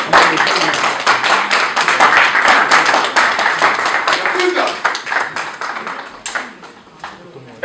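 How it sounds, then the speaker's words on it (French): Dense, sustained applause from an audience welcoming Werrason at a Paris press conference, many hands clapping steadily and fairly loud throughout, thinning slightly toward the end. "On va tous accueillir sur un tonnerre d'applaudissements Monsieur Werason de Rwanda"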